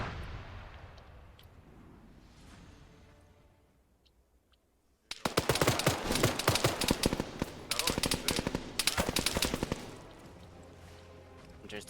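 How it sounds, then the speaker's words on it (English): Dense bursts of automatic gunfire erupt after a quiet stretch in the military shooter Arma 3, loud rapid rattling volleys with brief pauses and a faint voice beneath the early lull. "Just taking fire from that second story up there."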